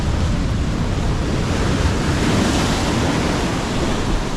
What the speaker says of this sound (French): une série de grosses vagues là